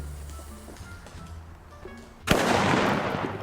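A firecracker in a Tamil fireworks video game bursts loudly once, midway through, after a stretch of quieter background game noise. The blast leaves a dense crackling wash that keeps going to the end.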